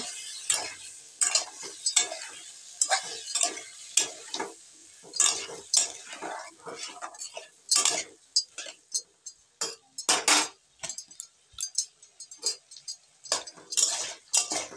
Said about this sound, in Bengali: ভালো করে নেড়ে চেড়ে কষিয়ে নিতে হবে।